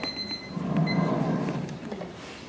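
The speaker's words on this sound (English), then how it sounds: "My wife has that same alarm in the morning." An alarm clock beeps in short repeated tones with a faint rumble underneath, fairly quiet and brief.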